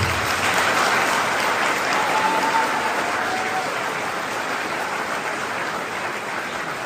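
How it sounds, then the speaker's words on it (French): Steady, dense clapping from a large conference audience in Paris fills the whole stretch, loud and sustained without letup. "j'aimerais demander à chacun d'entre vous que vous puissiez vous applaudir"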